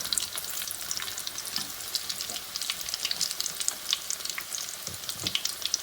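Egg and potato kebabs (aloo anda kabab) fry in hot oil with a steady, close, crackling sizzle and scattered sharp pops, no voices.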